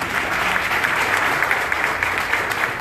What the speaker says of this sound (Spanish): Un aplauso a los comunicadores.